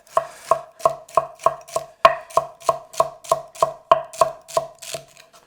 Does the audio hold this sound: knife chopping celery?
yes